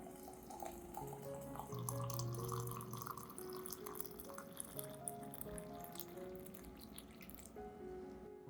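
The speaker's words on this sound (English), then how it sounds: "Add 500 milliliters boiling water." Boiling water pours steadily into a vessel with a bubbling, trickling texture, continuous and close, with faint tonal hum underneath.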